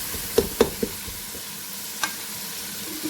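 Spices and beef paya fry in a pot with a low sizzle, broken by a few sharp knocks and scrapes of a spoon stirring against the metal, close and clear with no talking.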